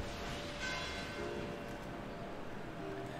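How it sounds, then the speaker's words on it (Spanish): Church bells ringing inside the video game Destiny, a steady blended wash of bell tones sustained at moderate, even loudness throughout, with no talk. "ya terminó lo de las campanas"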